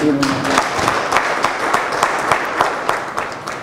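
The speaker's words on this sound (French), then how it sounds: "je vous demande de nous applaudir" Applause from a crowd at a political party rally in Benin, a steady dense clapping that holds for several seconds, with a brief voice at the start.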